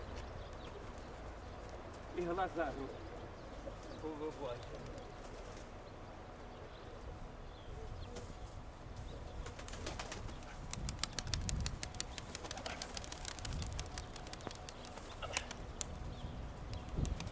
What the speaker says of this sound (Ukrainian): тут такі голуби наші